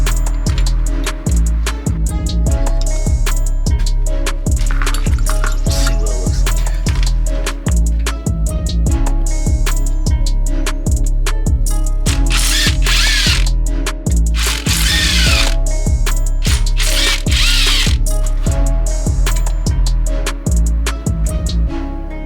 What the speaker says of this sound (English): neutral drop and electric ratchet gives you a little more power